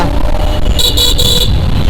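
Cars stuck in a full traffic jam on a Mumbai road near Goregaon toward JVLR sound a short run of three quick horn toots over loud, constant engine and road rumble.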